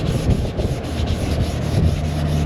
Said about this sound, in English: Door handle requires hand sanding.